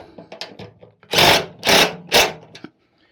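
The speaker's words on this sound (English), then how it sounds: "Use a 3/8 inch socket or a wrench or something like that." A 3/8 inch socket wrench tightening the steering bolts on a Toro 928 OAE two-stage snowblower: a few faint taps, then three loud, close rasping ratchet strokes in a quick, even rhythm.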